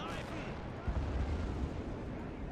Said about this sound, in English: You can hear distant explosions on occasion.